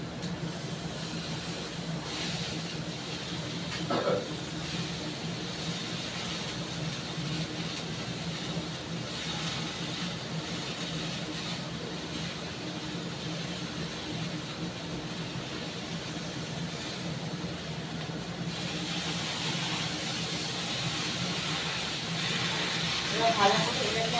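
Cut vegetable stalks sautéing in a pan, a continuous broad hissing sizzle that holds steady and swells slightly toward the end, with a faint voice beneath.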